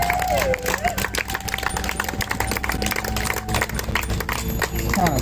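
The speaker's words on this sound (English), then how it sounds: "Clap it up for yourselves." A crowd at a street protest march in Philadelphia claps steadily and energetically, with scattered cheers and voices mixed in.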